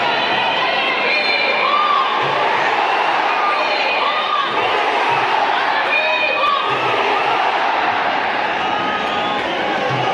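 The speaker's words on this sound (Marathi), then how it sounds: "नेपाळचा क्राऊडचा जल्लोष बघा" Nepal cricket fans roaring and cheering in a packed Wankhede Stadium during a T20 World Cup match, a loud continuous crowd din with shouts and swells rising throughout.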